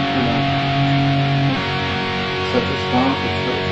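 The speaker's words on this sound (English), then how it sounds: "Let's do compressor, turn on." Sustained electric guitar notes through a THR10X amp's compressor effect ring out evenly, held with little decay, then a few shorter plucked tones follow, with a smooth, squeezed, steady volume.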